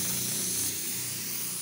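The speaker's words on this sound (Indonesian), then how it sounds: "Saya bakal coba semprot." A conventional paint spray gun blasts a continuous, loud, close airy hiss of atomized paint that eases slightly partway through, steady with no voices.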